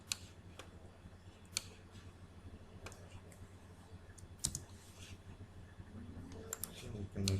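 Computer mouse right-clicks while drawing a shell type transformer diagram, several sharp, separate clicks spaced over quiet background hum with a few keyboard-like taps.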